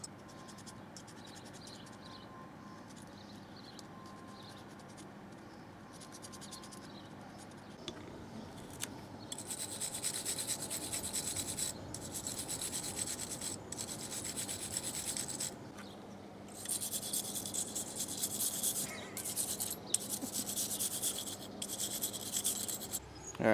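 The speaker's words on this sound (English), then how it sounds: "Cleaning some brake parts." Brake parts from a 2014 Chevrolet Cruze being scrubbed clean, a steady rasping, rubbing scrape that grows louder and harsher partway through, coming in repeated close bursts with short pauses between them.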